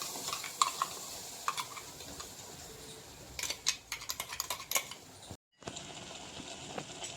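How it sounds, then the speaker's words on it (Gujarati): Gram flour (besan) being roasted and stirred in a pan, with a soft continuous sizzle and repeated scraping, tapping spoon strokes, busier in the middle and briefly dropping out near the end. "હવે ચણાના લોટને 2 મિનિટ જેટલો શેકાવા દેવાનો"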